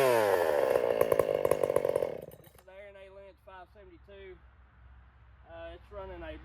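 A ported Husqvarna 562XP chainsaw with a new Oregon EXL chain revs loudly up close for a couple of seconds, then cuts off and someone speaks over a low idle.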